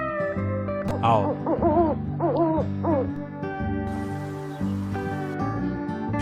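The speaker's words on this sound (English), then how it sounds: "owl" An owl hoots in several wavering, tonal calls set against a steady background of music.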